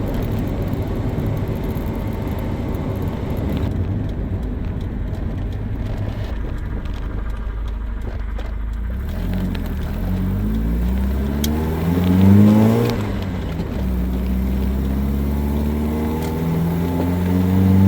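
A Volvo car engine running on only one fuel pump holds a loud, steady drone, then revs up and falls back near the end.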